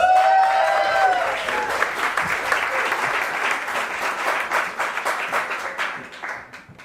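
Crowd applause at a poetry slam: loud, continuous clapping with a brief whistle or cheer at the start, gradually thinning and fading over about seven seconds.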